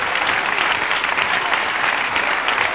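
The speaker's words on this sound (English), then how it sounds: "Clap your hands. Clap your hands." A church congregation claps hands steadily throughout at a revival-style gospel service, a dense, continuous patter of many hands filling the room at close range.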